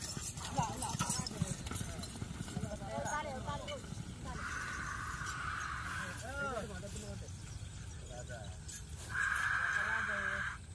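Water buffalo (carabao) race in Sta. Rita, Cabiao, with rhythmic hoof clatter passing amid crowd noise and shouting, plus a couple of bursts of a shrill whistle-like tone.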